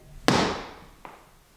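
Feet banging on a wooden floor inside an old house, one loud sharp thump with a long ringing decay followed by a fainter second knock.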